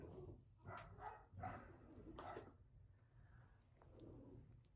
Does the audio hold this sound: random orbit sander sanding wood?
no